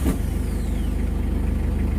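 Mitsubishi L300 2022 pickup diesel engine idling steadily right after starting, a rapid low-pitched throb close by, running alone without voices.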